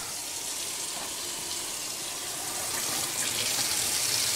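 Cold water runs from a kitchen tap for making Dhaka-style milk tea, a continuous hissing rush that grows a little louder toward the end, with no voices.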